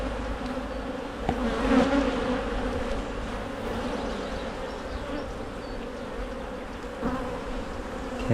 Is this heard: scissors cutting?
no